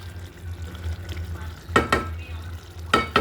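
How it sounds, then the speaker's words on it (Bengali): Spices fry and sizzle in a pan for a chicken and potato curry, with two distinct scraping stir strokes standing out clearly above the quiet frying hiss. "মশলাগুলো কষানো হয়ে গেছে।"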